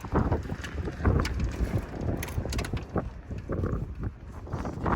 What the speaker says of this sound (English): Oh, this wind is shit.